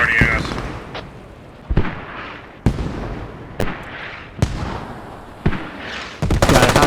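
Mortar fire in a tactical shooter match, sharp booming impacts landing roughly once a second amid a crackle of gunfire, with a caster talking over the action.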